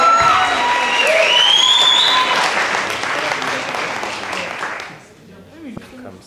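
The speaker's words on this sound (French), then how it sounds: "Attendez l'applaudissement s'il vous plaît pour vous encourager." A crowd at a French eloquence contest final breaks into loud applause with cheering and a few whistles, strong at first and then thinning out before fading to near quiet, with faint voices after.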